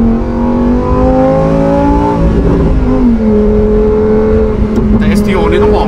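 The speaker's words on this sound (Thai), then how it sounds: "แต่ STO นี่ต้องบอกเลยว่าเสียงโตมากนะฟังเสียงเครื่อง" A Lamborghini STO engine revs up loudly and close, its pitch climbing, dropping through a shift, then settling into a steady roar, with someone talking over it.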